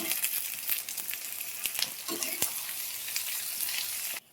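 Garlic is added to onions and dried chillies already frying in hot oil, giving a steady crackling sizzle with sharp pops and stirring clacks throughout, then a sudden stop.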